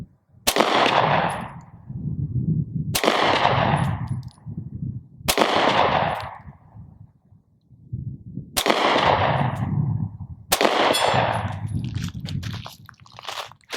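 Sig P365 Gen 2 pistol fired at a target on a range: five sharp, loud shots spaced a few seconds apart, each with a ringing decay and faint metallic pings, under a steady low outdoor rumble.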